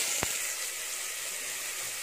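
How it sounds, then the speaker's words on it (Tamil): Chopped onions sauté in hot oil with fennel seeds in a pot for chicken curry, a steady bright sizzle close by with one brief soft knock near the start. "ரெண்டு பெரிய வெங்காயம் பொடியாக இருந்துட்டு இது போட்டு நல்லா வதக்கணும்."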